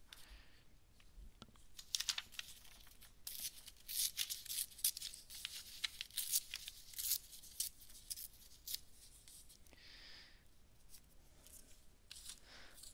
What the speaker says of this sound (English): I know, we're tearing paper.